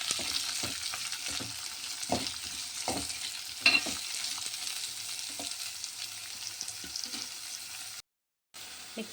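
Onions and garlic fry with salt in a pan, a constant sizzle broken by repeated scraping strokes of a spoon stirring them. The frying stays fairly close and steady and cuts out briefly near the end.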